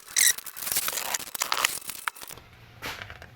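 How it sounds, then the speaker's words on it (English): A carbide scraper scrapes crust off an A/C clutch on a 2004-2009 Mazda3 2.3L, giving short, close, irregular scratching and crinkling strokes that are fairly quiet and broken by brief pauses. "I have a carbide scraper here. I'm just gonna kind of get some of this excess crust off of here."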